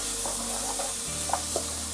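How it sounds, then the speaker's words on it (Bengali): Jackfruit seeds stirred in a hot pot for Sylheti shutki shira, giving a steady dense sizzle with a couple of soft scraping strokes, close and continuous. "প্রথমে আমি কাঁঠাল বিচিটা দিয়েছি, এখন এটাকে নেড়ে নিচ্ছি"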